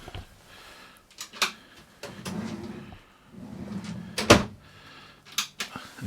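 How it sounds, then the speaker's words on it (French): Large drawers in the kitchen of a Bavaria T746 Style camper van slide and thud open and shut, several soft rumbling runs and sharp knocks at close range in a quiet interior. "Les grands tiroirs, les rangements."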